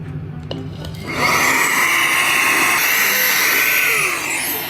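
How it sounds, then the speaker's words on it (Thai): A small handheld vacuum cleaner switches on indoors and sucks up mess from the floor, its loud, steady whine holding for several seconds after some faint handling noises. "แล้วก็จะใช้ เครื่องดูดอย่างนี้มาดูด"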